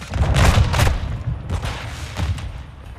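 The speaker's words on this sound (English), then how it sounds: "Hostile mortar strike in the area." Mortar strike explosions in Call of Duty Modern Warfare 2, a cluster of heavy booming impacts early on, then further thuds and crackling fire fading off.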